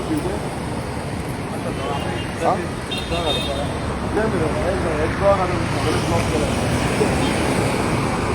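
Road traffic in Panjim jammed by trucks blocking one side, a dense rumble of idling engines with a horn toot partway through, under continuous nearby talking.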